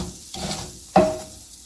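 Cocoa powder being stirred into chocolate syrup, giving a soft scraping swish with one sharper clink of the utensil partway through, close and fairly quiet.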